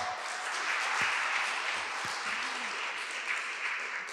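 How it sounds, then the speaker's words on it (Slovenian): An audience applauds at a Slovenian word-of-the-year announcement ceremony, a steady, dense wash of clapping from a crowd that continues evenly throughout. "En aplavz."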